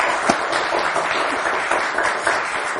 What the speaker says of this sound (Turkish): Alkışı erken gönderdi. Bir daha lütfen.